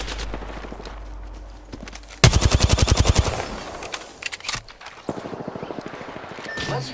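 Loud, close automatic gunfire in an Apex Legends match hammers out a rapid string of shots, followed by scattered, fainter bursts and distant firing.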